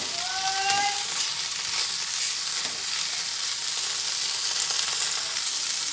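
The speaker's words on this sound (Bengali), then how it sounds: "আদা দেওয়ার পরে একটু ভালোভাবে ভেজে নিচ্ছি।" Ginger sizzling and frying steadily in oil in a pan, a continuous crackling hiss throughout, with a few brief tonal clinks near the start; no talking.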